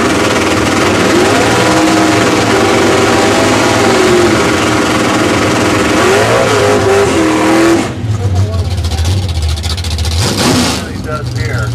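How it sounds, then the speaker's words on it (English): A Camaro in a heads-up drag race revs hard with a loud, sustained engine roar whose pitch climbs through the gears. The roar then drops to a lower rumble. Voices talk over it. "Tom Bettiker in the Camaro, heads up drag race"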